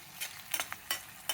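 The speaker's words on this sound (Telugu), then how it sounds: "పచ్చిమిరపకాయలు అంత సన్నగా తరుక్కొని అల్లం వెల్లుల్లి పేస్ట్ వేసి వేయిస్తున్నాను అనమాట." Vegetables frying with ginger garlic paste in a pan for masala oats, heard as short bursts of sizzling and stirring scrapes, about four distinct strokes, close and moderately quiet, with no talking.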